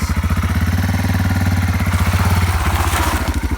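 A dirt bike engine runs at a steady throbbing idle, then its revs rise briefly toward the end. The engine sound is loud, close and continuous, and no one speaks.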